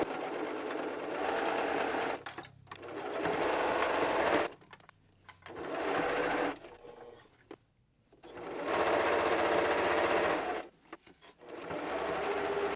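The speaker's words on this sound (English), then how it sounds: "make sure you backstitch when you get to that second mark that you made" Sewing machine stitching two layers of kitchen cloth, several whirring bursts of rapid stitching separated by short pauses, close and clear with no talk.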